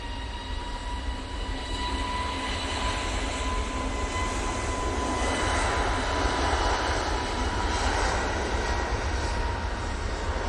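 An Airbus A320neo jet airliner takes off at Manchester Airport, its engines giving a steady, broad roar that swells slightly midway and holds loud throughout, with faint tonal whines over the rumble and no talk.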